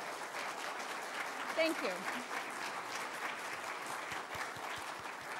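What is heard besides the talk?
applause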